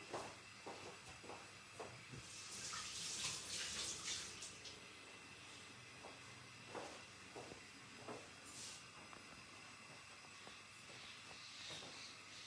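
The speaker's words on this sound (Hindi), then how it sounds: "मैं हैंड्स वॉश करती हूँ" Hands are washed under a running kitchen tap, a soft, steady wash of water with occasional splashes and rubbing sounds, faint and fairly distant, with no one speaking.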